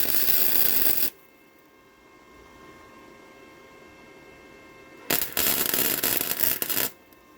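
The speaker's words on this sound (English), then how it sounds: "A simple tack weld can do the job." Tack welding an exhaust tip on a Smart Fortwo: two loud crackling hissing arc bursts, one about a second long at the start and another almost two seconds long later, separated by a quiet humming pause.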